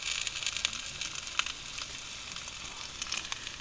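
Meat fries in a pan with onion and garlic, giving a quiet, continuous crackling sizzle with scattered small pops and no voices.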